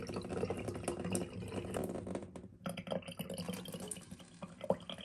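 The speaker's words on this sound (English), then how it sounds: "Now turn on the water supply to let water fill up the system." Water rushing into a reverse osmosis filter system, a quiet, continuous splashing flow with small gurgles and drips, briefly dipping before resuming.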